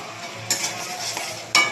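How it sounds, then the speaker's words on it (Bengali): Spice paste with green chillies stirred and fried in a pan, a steady soft sizzle with two sharp scraping strokes of the spoon, close and alone. "এবার এটাকে ভালো করে নাড়াচাড়া করে একটু কষিয়ে নেব।"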